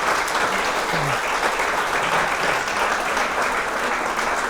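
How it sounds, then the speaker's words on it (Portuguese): Steady, dense applause from an audience at a live Portuguese talk show recording with guest Mário Augusto, even and sustained throughout without pause. "uma salva de palmas aqui para o Mário Augusto"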